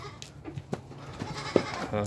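A two-month-old male goat kid from a high-milk dairy line bleats briefly a couple of times, fairly faint against a steady farmyard background with some voices around.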